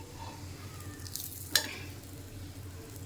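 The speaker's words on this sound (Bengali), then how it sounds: "এইভাবে সেকে হালকা হালকা তেল দিয়ে ভাজলেই ভালো হয় পরোটা ভাজা।" A paratha fries in a little oil on a pan with a constant soft sizzle, and one sharp metallic clink cuts through midway. No one speaks.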